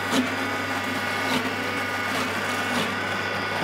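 A kitchen blender mixing aubergine hummus, running with a steady continuous whir throughout, close and fairly loud with no talking.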